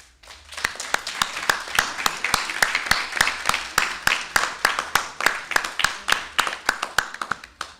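Rhythmic, steady clapping from a debate audience, sharp evenly spaced claps repeating for several seconds, loud and close.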